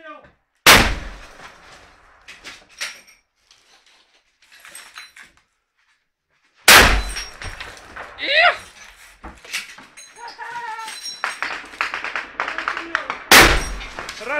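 Three loud, sharp gunshots ring out several seconds apart, each echoing, with people talking and shouting in between, during fighting at an airport in Ukraine.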